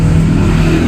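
A Honda PCX160 motor scooter engine hums loudly and steadily up close, a low buzzing drone under acceleration, with no voices.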